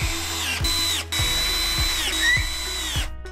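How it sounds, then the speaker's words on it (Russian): Self-tapping screws driven with a power drill through a corner bracket into the rail of a single bed frame with a lift mechanism, several short whining bursts with pitch drops and clicks as each screw seats. "Уголок крепится вровень с торцом царги на саморезы из комплекта фурнитуры."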